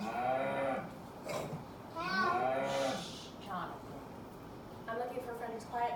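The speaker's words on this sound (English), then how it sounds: "That's a cow." A cow moos several times in long, drawn-out calls of varying pitch. A person speaks softly over the start of the sounds.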